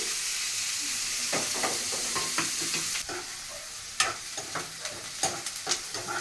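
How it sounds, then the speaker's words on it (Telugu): Onions fry in a pan with a soft continuous sizzle, while a spoon scrapes and taps against the pan in quick bursts of stirring. "ఉల్లిపాయలు అయితే వేగిపోయినాయి"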